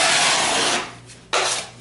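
A wide drywall trowel rasps across drying joint compound to scrape off the edges of a seam, two broad close scraping strokes separated by a brief pause, with no talking.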